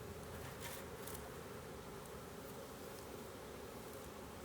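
Honey bees from a package gather at the hive entrance and crawl in, giving a dense, steady buzzing drone that stays close and even throughout.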